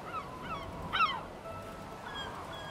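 A goose-like bird honks once in a video game, I Am Dead, a short clear cry standing alone over a quiet ambient bed, with softer calls around it.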